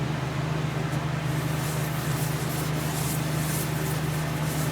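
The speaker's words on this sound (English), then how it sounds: "I'm going to attempt not the Yorkshire grit, but the microfine Yorkshire grit" Microfine Yorkshire grit polishing a spinning eucalyptus bowl on a lathe, a steady close rubbing hiss with an even drone underneath, continuous and unbroken with no talking.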